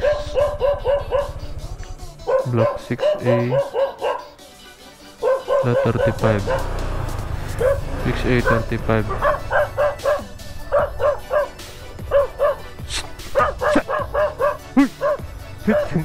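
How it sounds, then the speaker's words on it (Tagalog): Many dogs bark and yip loudly and repeatedly close by in a residential block, with someone talking over and between the barks throughout. "ang dami ditong aso"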